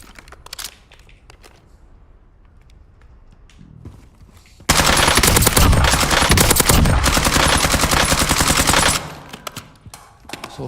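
Automatic M4 rifle fire in a competitive battle royale tournament match, a loud sustained burst of rapid shots lasting several seconds after quieter scattered sounds and footsteps, ending with a few isolated shots.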